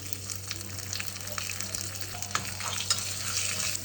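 Hot oil sizzles steadily and crackles, with scattered sharp pops as urad dal, mustard seeds, cumin and green chillies hit the pan for a curd rice tempering. There is no talking over it.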